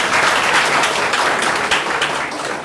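Dinner guests at an inaugural dinner applaud steadily, a dense wash of many hands clapping at close range that holds without a break for the whole stretch.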